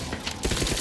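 Gunfire in the video game The Outer Worlds 2: a fast, dense burst of loud shots crackles through a snowy combat scene, with no clear pause between the rounds.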